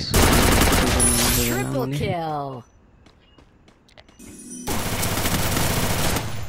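A video game firefight erupts as a player is shot down, with rapid automatic gunfire close up, a brief quiet stretch with faint footsteps, then another loud burst of continuous shooting.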